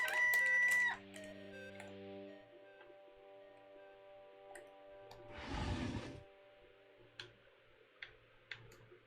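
A rooster crows once from a video game during a Longship After Dark stream, a single loud burst in the middle of quiet ticking and sparse electronic game tones.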